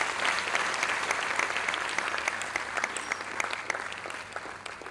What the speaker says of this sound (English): Oh, I'll say another round of applause.